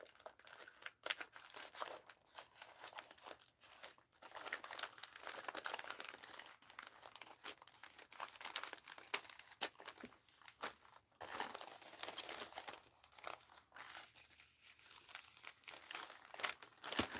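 Paper being cut along its edge with scissors, steady crisp crinkling and snipping close by, running continuously with small rustles throughout.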